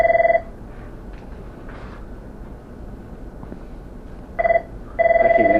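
A telephone rings in short repeated bursts, one at the start and two near the end, over a quiet room background in an office setting.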